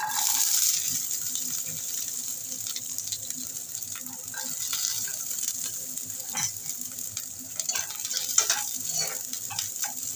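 Garlic and green chilies fry in a little hot mustard oil in a wok, giving a steady close sizzle with light stirring scrapes and a few crackles throughout.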